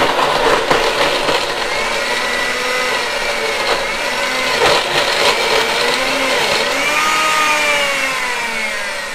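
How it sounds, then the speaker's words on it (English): A blender runs loud and steady, its motor straining and grinding through dense frozen beet chunks for a berry beet smoothie, pitch wavering slightly as the load shifts. "My blender's gotta work a little harder today because I froze those beets"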